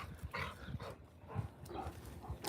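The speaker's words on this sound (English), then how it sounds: "is that the Cane Corso growling?" A Cane Corso makes low, rough dog vocalizations, short grumbling bursts repeated through the moment, close by and moderately loud, with no talk over it.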